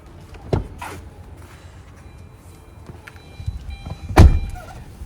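The door of a Tata Nexon XZ+ Dark Edition car opens and then shuts with a solid thunk, two distinct knocks separated by quiet interior shuffling.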